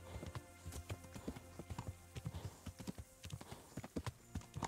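Steady horse hooves clip-clop at a walking pace in the video game Kingdom Come: Deliverance, close and fairly loud, with a brief snort or whinny and no talking.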